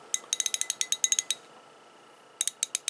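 A 3/8 roto head ratchet with very light back drag, clicking in a quick, crisp series of close metallic ticks, then a short pause and a few more clicks, with no talk.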